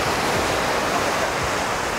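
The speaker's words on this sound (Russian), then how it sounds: "Вот он пляж." Continuous rushing surf at a hotel beach in Kemer, Turkey, loud and steady with waves washing in and some wind buffeting the microphone.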